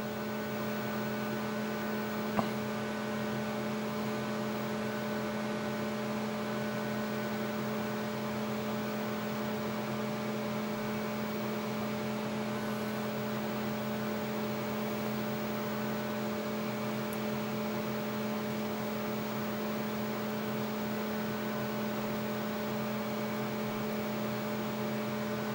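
A 400 MHz PowerPC G4 computer starting up gives a steady, even electrical hum with a faint fan-like hiss, unchanging and alone throughout.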